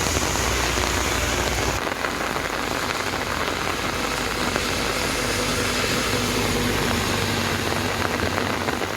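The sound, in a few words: heavy rain falling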